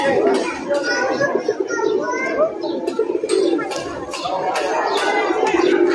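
Pigeons coo and other birds call at the Shah Jalal shrine, with continuous crowd chatter and children's voices mixed in around them.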